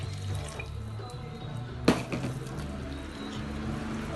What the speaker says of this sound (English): Water going in.